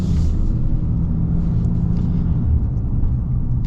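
A 2026 Ram Rebel HD heavy-duty pickup truck engine gives a steady, loud, low rumble that holds constant throughout, with no voices.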